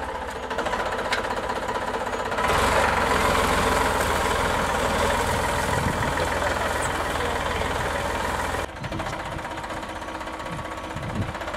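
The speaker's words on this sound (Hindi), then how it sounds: "देख रहा हूँ ये ट्रैक्टर चल रहा है, प्लाव चल रहा है" A tractor pulling a deep plough through a field in Madhya Pradesh runs with a loud, steady knocking diesel rumble, rising louder for several seconds mid-clip before easing back to a lower idle.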